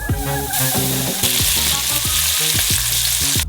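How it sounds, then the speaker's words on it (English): Flour-coated onion deep frying in hot oil makes a dense, continuous close sizzle, with a tonal melody playing over it and no one talking. "Now we just have to deep fry it."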